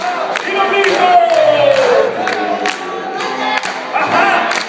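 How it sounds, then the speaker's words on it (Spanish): A crowd at a breakdance battle claps in a steady rhythm while shouting and whooping close by, loud and continuous throughout. "¡Con las palmas! ¡Y los gritos!"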